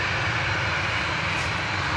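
A fixed-wing airplane taking off at Manchester Airport, its engines giving a loud, steady roar that holds continuously throughout without any voices.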